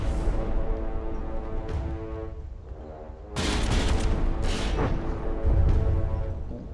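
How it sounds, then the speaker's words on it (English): Warship rear guns fire in a naval combat game, a series of heavy booms and blasts over a steady engine-like drone, loudest in a dense burst after a quieter stretch and again near the end. "Okay, rear guns fired."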